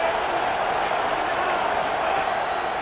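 Stadium crowd roaring in the EA Sports College Football video game, a steady wash of cheering and murmur that holds at an even level with no clear peaks, with a faint commentary voice under it.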